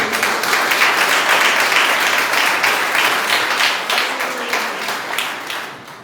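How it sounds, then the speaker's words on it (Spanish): A church congregation applauds during a Sunday service, with loud, dense clapping at full strength from the start that slowly thins and fades toward the end. "Gracias por su aplauso."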